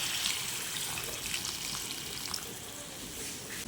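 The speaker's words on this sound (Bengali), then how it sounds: "এবার আমি এর মধ্যে 1 কাপ মতো গরম জল অ্যাড করে দিচ্ছি।" Hot water pours steadily into spiced potatoes for aloo dum, a close continuous splashing stream that stays even throughout.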